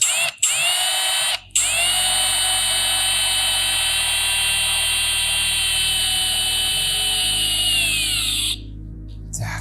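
A Milwaukee M18 ONEDD2 cordless drill driver sinks a 250 mm screw, its motor whining loud and steady for several seconds after two brief starts, the pitch sagging slightly under load before it stops.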